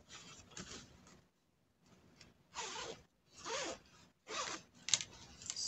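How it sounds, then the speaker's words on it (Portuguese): Zipper on a fabric pet carrier bag being tested, pulled open and shut in several quick, close rasping strokes separated by short pauses, with no talking. "Agora vamos testar o zíper aqui,"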